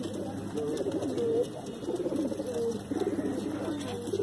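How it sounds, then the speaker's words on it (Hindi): Soft, low pigeon coos repeat every second or so against a dense background hum, fairly quiet and close, from a pigeon at a pigeon tournament in Mangalagiri. "ये कबूतर है"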